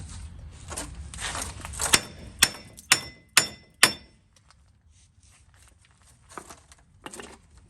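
Five sharp metallic sledgehammer blows ring out on a rusted Chevy truck hub bearing in an even rhythm, with quieter clinks and scrapes before and after.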